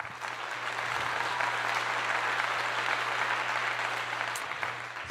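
A crowd breaks into steady, dense applause at a gathering, a continuous wash of clapping holding level for several seconds over a faint low electrical hum.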